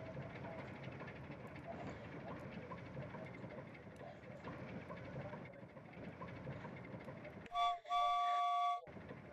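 A train in the video game Gorilla Tag rumbles along steadily for several seconds, then two loud whistle blasts sound near the end.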